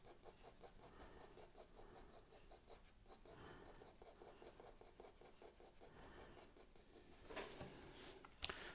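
Pencil strokes on paper while shading a drawing: a quiet, rhythmic scratching of graphite in quick repeated back-and-forth strokes, fairly close, growing louder and rougher toward the end.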